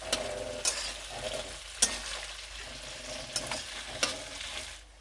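Onion, chopped tomato, ginger paste and garlic paste sautéing over a low flame, a steady soft sizzle broken by several sharp scraping stirs of a spatula against the pan, no voices.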